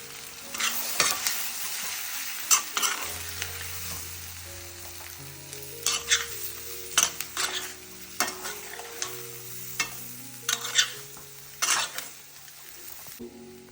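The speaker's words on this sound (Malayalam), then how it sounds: "നല്ലോണം ഇളക്കാം" Baby potato podi fry being stirred in a pan, a soft continuous sizzle under repeated scraping and clinking of a spatula against the metal, close and fairly quiet, no talking.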